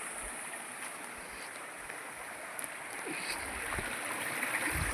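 Water from a forest waterfall pours over rocks in a steady, broad rushing hiss that carries on without pause and swells slightly toward the end.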